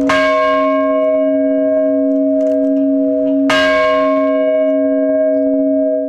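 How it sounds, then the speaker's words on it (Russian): An old bell rung in naval tradition at a seaside memorial, struck twice with a loud, bright clang each time, the long resonant hum ringing on between and after the strikes. "Там владыка Владимир по морской традиции трижды ударил в старинный колокол"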